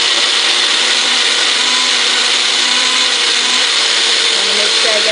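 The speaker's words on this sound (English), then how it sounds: "this is the one with the sugar" Blender whirring steadily as it mixes a goopy strawberry ice cream base with sugar, a broadband motor hum running continuously at close range with no pauses.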